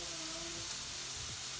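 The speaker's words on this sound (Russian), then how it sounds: "Обжариваем примерно пару минут и добавим чеснок." Chopped onion and garlic fry in a hot pan for meatball soup, giving a steady, close sizzling hiss with no pauses.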